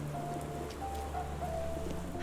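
Steady rain falls in Sherlock Holmes The Awakened, a soft, even hiss of rainfall over a low constant hum, with no voices.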